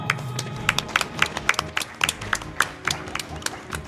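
Clapping at a speedrun event: a loose run of sharp, separate claps that comes across as a small, uneven burst of applause, close and fairly loud, lasting only a few seconds.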